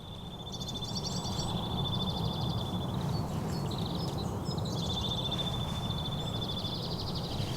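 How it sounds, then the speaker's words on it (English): Small birds chirp and trill in repeated high calls at Back of Beyond campsite in Ringwood, near the glamping pods, over a steady, rushing outdoor background. "There's all birds everywhere. It's alive with bird life."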